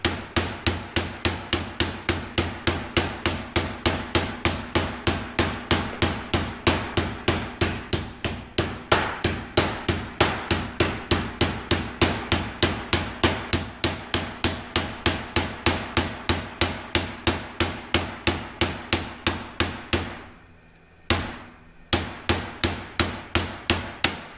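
Steady, rapid hammer blows ring on sheet metal as a floorpan edge for a 1967 Kaiser Jeep M715 is hand formed, dozens of sharp even strikes in a regular rhythm, loud and close, with one brief pause near the end.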